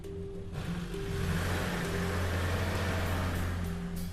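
Off-road vehicles strain in soft desert sand, engines holding a steady, loud drone with a brief dip and then sustained revving as the wheels churn.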